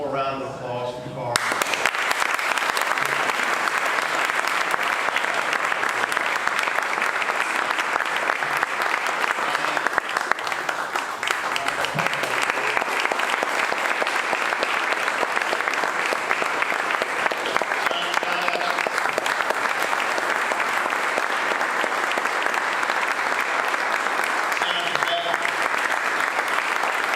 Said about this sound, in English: we can just have one more round of applause for Carl.